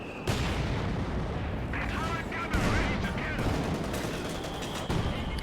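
Heavy ZiS field gun barrage in a Company of Heroes 2 match, a dense run of booming artillery shots and battle noise with sharper blasts near 0.3, 2.6 and 4.9 seconds, joined by a commentator talking over it.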